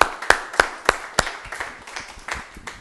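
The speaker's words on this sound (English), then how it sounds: "let's give a round of applause" A small audience at a launch party claps in a short round of applause, sharp distinct claps at first that thin into scattered softer clapping.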